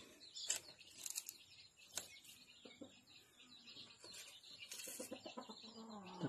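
Chickens cluck faintly and intermittently on a farm during a banana harvest, with soft scattered calls and some wing flutter in a quiet, distant setting.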